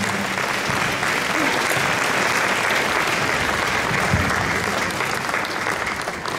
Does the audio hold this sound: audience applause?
yes